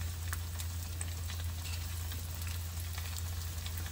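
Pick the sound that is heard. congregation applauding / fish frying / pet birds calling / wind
fish frying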